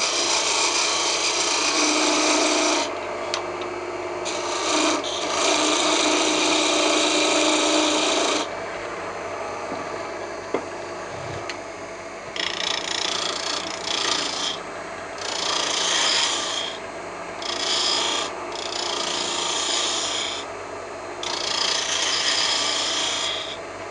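A woodturning tool cuts a tenon on a walnut lid spinning on a lathe, giving close, loud rasping scrapes in bursts of a few seconds, separated by short pauses with no talk.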